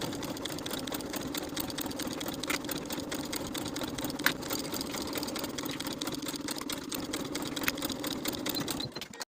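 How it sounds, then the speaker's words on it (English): A sewing machine stitches a yoke seam on a linen shirt, running continuously at an even pace with a close, steady mechanical whir and a couple of small clicks. "Then we can sew this seam with a 1/2-inch seam allowance."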